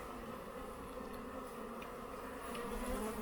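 Honeybees in an opened beehive give a steady, dense buzz at low volume, with no talking over it.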